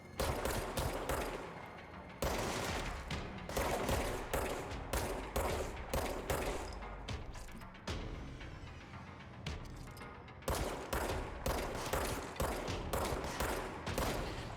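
A self-reloading pistol in the video game Control fires shot after shot in loud, sharp bursts, with brief gaps between volleys across the stretch and no voice.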